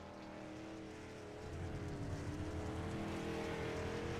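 Race cars in the iRacing sim roar with a steady, dense engine drone that swells after the first second into a loud, continuous multi-car rumble with shifting pitch lines.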